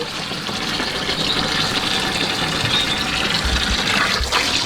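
Water runs steadily into a tub to soak an Aldabra tortoise, a loud continuous rushing and splashing pour close by with no talk.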